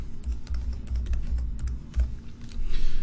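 Someone types an IP address on a computer keyboard, the keystrokes quick and irregular in short clustered taps, close and clear with a faint background hum and no talking.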